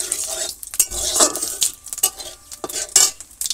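Cumin seeds sizzling in hot oil in a village kitchen, with a metal spoon clinking and scraping against the pan in irregular bursts, close and fairly loud.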